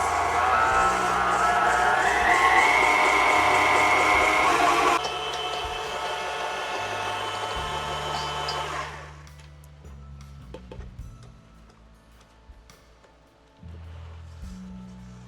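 Electric hand mixer beating banana bread batter at high speed, a loud steady motor whir that shifts pitch partway through, then cuts out, leaving faint clinks and scraping.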